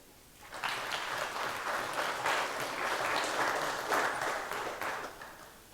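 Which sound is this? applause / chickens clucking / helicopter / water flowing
applause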